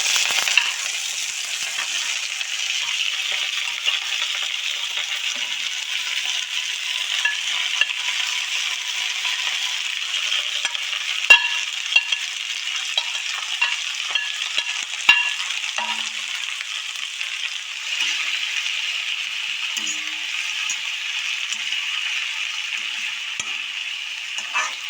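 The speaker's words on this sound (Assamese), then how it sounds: "এতিয়া মই এইখিনি ধুনীয়াকৈ ৰঙা হোৱালৈকে ভাজিলোঁ আৰু তাৰপিছত এয়া মই শাক আৰু বিলাহীখিনি ইয়াতে দি দিছোঁ।" Greens, tomatoes and chillies stir-fry in a pan of hot oil for a fish and greens dish, giving a steady, close sizzle with scattered clinks and scrapes from stirring throughout, no voices.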